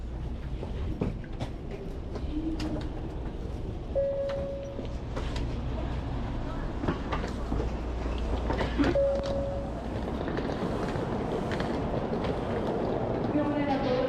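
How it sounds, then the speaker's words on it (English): A Shinkansen bullet train rumbles steadily with rattling and brief tonal squeals as it slows pulling into Kyoto station, while people talk faintly nearby. "The end of my first train ride was near as we began to pull into Kyoto."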